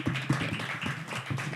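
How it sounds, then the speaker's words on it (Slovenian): An audience at a slam poetry evening during the Ljubljana poetry festival applauds two finalists, giving a steady, moderate patter of clapping with no voices over it. "In en aplavz seveda"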